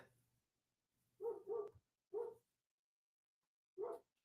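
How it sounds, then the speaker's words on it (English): A dog barks four times indoors, a quick double bark followed by two single barks with pauses between, fairly faint and at a moderate distance, with no other sound around it. "My dog's barking."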